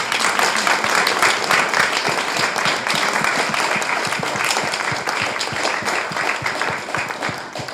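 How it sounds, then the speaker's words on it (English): A round of applause from the audience at a talk on climate action, dense continuous clapping from many people that holds steady before slowly thinning out. "Maybe a round of applause for our speakers."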